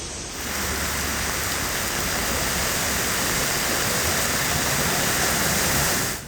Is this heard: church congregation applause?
no